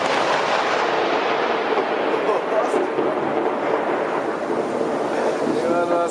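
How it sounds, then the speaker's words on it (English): Thunder right after a nearby lightning strike, a loud, sustained, dense rumble that fills the whole clip with little variation. "The most dangerous moment is when thunder immediately follows lightning, like in this case."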